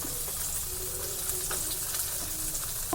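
Bombay duck (bombil) fish frying on a flat iron tawa over a low flame, giving a steady close sizzle and hiss throughout with a few faint crackles and no talk.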